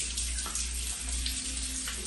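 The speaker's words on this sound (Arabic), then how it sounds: "غسل اليدين ثلاث مرات" Hands are washed under a running tap during ritual ablution (wudu), with a steady close rush of flowing water and small splashing shifts as the hands move through the stream.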